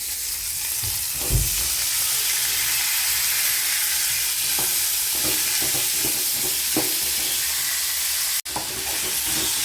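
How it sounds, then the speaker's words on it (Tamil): Spices temper in hot oil for a chutney, a loud constant sizzle with occasional pops and stirring knocks, briefly cutting out near the end before resuming. "தாளிப்பலாம்"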